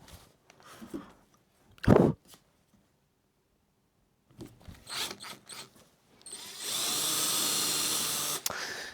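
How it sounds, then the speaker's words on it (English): A power drill whirs in short bursts, then runs steadily for a couple of seconds while boring holes into plywood, with quiet handling noises in between. "So I'll carry on just drilling some of these out."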